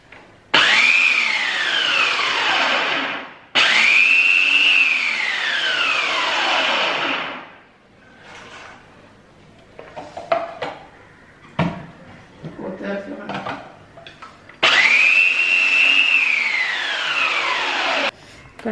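A kitchen mixer grinder, used while preparing a stingray roast, runs in three loud bursts of several seconds each, its whirring pitch sliding downward; quieter clatter and handling noises fill the gaps between runs.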